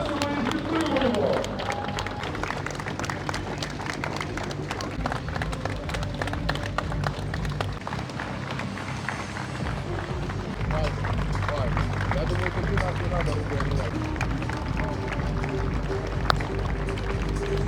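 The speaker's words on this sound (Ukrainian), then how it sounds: "Весь час, весь час аплодуємо всю дистанцію хлопцям." Spectators clapping continuously for runners along the course of a charity race, rapid overlapping claps mixed with crowd babble and outdoor noise, fairly loud and close throughout.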